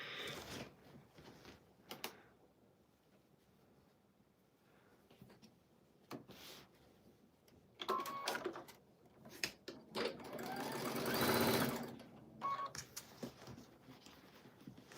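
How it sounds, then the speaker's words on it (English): A sewing machine stitches in short, fairly quiet bursts with pauses between them, ending in a longer, steadier run of stitching. "And I will start sewing."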